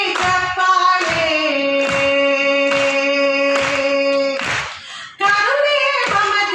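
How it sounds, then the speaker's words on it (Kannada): Rhythmic hand clapping at a women's day function keeps a steady beat of about two claps per second under loud singing, pausing briefly before resuming. "ಚಪ್ಪಾಳೆ"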